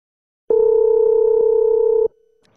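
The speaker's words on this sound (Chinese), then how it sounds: "现场我们拨通了陈先生二婶的电话。" A steady telephone dial tone sounds loud and alone for about a second and a half while a call is placed, then cuts off abruptly to a faint trailing hum.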